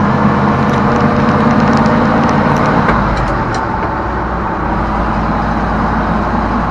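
A 1979 Dodge Power Wagon truck, abandoned for 25 years, drives with a loud, steady engine and road rumble from inside the cab, a small shift in tone partway through.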